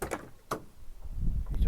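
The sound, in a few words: rear barn door of Elddis Compass caravan opening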